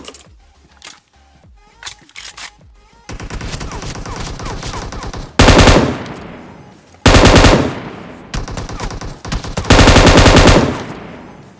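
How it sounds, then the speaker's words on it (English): Loud bursts of automatic gunfire from an enemy in the battle royale game BGMI, rapid rattling volleys of several seconds each separated by quieter gaps with scattered clicks, and no talking. "As you can clearly see, that enemy was shooting at me. By hearing those gunshots, I thought that enemy should be on tower"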